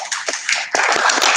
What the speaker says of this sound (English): I would just like to give him a round of applause